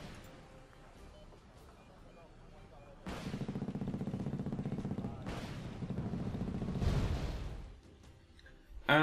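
Mortar fire in the real-time strategy game Wargame AirLand Battle: several heavy booming impacts arrive in separate bursts over a low background rumble, each blast swelling then fading, with a louder crack right at the end.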